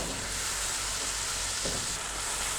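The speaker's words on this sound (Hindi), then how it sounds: "सब्जियों को डालकर हम सौते कर रहे हैं।" Vegetables with green chillies sizzle and crackle steadily in a hot pan while being sautéed for a vegetable pasta, a continuous close frying hiss with no voices.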